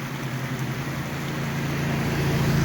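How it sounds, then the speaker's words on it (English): Motorcycles and cars pass on a road beside a creek, making a steady broadband roadway rumble that swells slightly as the vehicles go by. "Motorcycles and cars going by."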